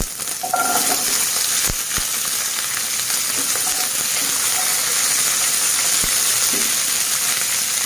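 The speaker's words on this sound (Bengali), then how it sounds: "এবার দিয়ে দেবো কেটে রাখা বরবটি আর আলু।" Chopped yardlong beans and potatoes frying in a pan of hot oil, a loud continuous sizzle with a few faint stirring clicks and scrapes.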